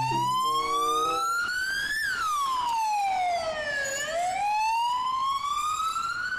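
An ambulance siren wails continuously up close, its pitch sweeping up and down in slow, smooth cycles.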